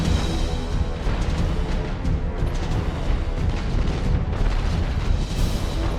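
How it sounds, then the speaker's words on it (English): Spaceship weapons in Battlefleet Gothic Armada fire in a dense, continuous barrage of booming blasts and explosions, loud and rumbling throughout. "Fire all weapons!"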